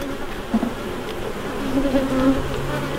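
Honey bees buzz steadily around an open, surviving hive during an inspection of foundationless brood comb, a close, continuous drone with small swells in intensity and no talk over it.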